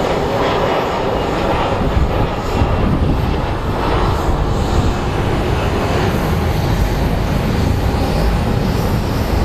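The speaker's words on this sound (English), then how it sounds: "It's another little Embraer landing." An Embraer jet airliner comes in to land at Phoenix Sky Harbor International Airport, a loud, continuous broadband engine roar that stays heavy and unbroken throughout.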